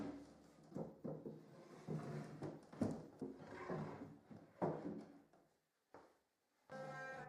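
Wooden drawers of a restored mid-century modern sideboard sliding on runners coated with candle wax, several soft rubbing strokes in and out with light knocks as they close, then a brief pause and one more slide.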